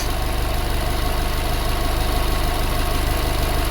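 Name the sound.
2007 Subaru Forester engine idling at operating temperature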